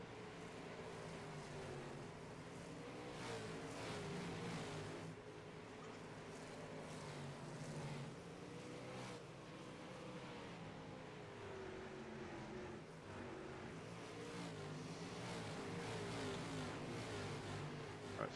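Race cars at a grassroots competition track roar past in a dense, continuous engine drone with shifting pitch and occasional revving swells, fairly distant and steady throughout.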